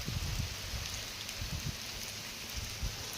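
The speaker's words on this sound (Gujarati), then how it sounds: "વરસાદ ફૂલે ફૂલ એટલે ફૂલે ફૂલ ચાલુ છે" Heavy rain pours steadily in an outdoor setting, a dense continuous hiss with scattered low thumps of drops striking surfaces, fairly near and unbroken throughout.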